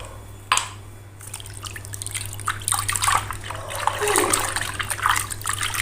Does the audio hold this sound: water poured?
yes